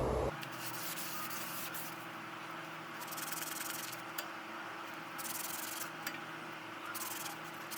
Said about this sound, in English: You can clean up the rusty spots if you want with some sandpaper, emery cloth.